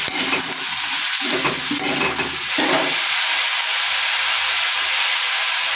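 Food sizzles and fries in a pan, with turmeric added, while it is stirred, scraping stir strokes over a steady loud hiss.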